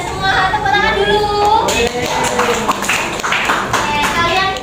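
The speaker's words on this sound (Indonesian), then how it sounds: "Oke, pintar semua, tepuk tangan dulu" A class of Year VII students at an Indonesian madrasah claps on their teacher's cue during a statistics lesson, a short burst of lively clapping mixed with children's chatter, following and partly overlapping a teacher's speech.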